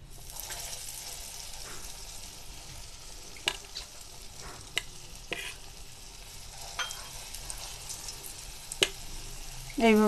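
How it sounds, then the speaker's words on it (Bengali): Drumstick leaf fritters fry in hot oil in a wok, giving a steady close sizzle broken by occasional sharp clicks and scrapes of a utensil. "আমি এবারে বড়াগুলো ভেজে নেব।"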